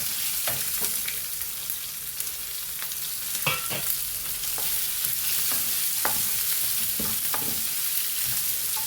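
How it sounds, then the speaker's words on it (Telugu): Onions and garlic fry steadily in a hot pan for a Kerala-style chicken dish, giving a loud, continuous close-up sizzle with scattered clicks and scrapes of stirring and no talking. "దాని తర్వాత ఇవి వేద్దామండి, ఉల్లిపాయలు, ఎల్లిపాయలు,"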